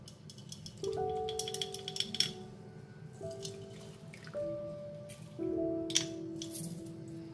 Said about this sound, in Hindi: इसमें हाफ नींबू लेंगे, आधा उसका जूस डाल लेंगे